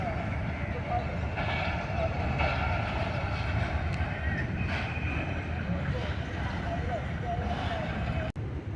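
The Pak Business Express passenger train rolls past with a steady, loud rumble and rattling clatter that keeps going throughout, and a brief sharp click sounds near the end.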